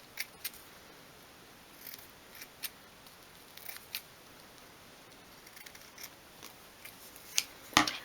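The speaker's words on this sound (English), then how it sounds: "just trim away the wadding from around the edges" Scissors snip wadding away from the edges of a 1/12 scale miniature stool, giving a few quiet, close clicks at irregular intervals with near silence between them and a quick cluster of cuts at the end.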